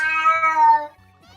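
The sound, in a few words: cat meowing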